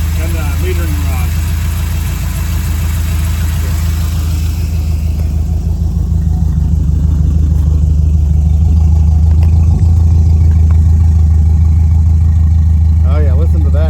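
A 1968 Camaro's V8 idles loudly and close after carburetor tuning, with new springs and metering rod, a steady deep rumble with slight rhythmic lope, building a little in the latter half, with a voice speaking over it briefly.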